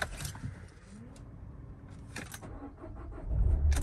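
A Vauxhall Vivaro 2900 Sportive LWB van with a 120 BHP Euro 6 engine starts up after a key clatter and a few clicks, its engine catching with a low rumble near the end, close and fairly quiet.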